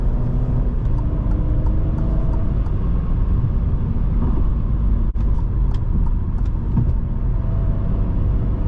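From inside a 2021 Alfa Romeo Giulia Ti, the four-cylinder engine hums low and steady under light throttle while road noise rumbles throughout, with a few faint clicks and one brief dropout.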